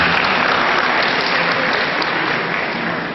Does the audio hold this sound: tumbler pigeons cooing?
no